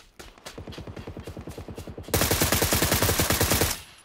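Automatic gunfire from a video game weapon rattles off in rapid, even bursts, a lighter stream first, then a louder, denser burst lasting over a second before stopping.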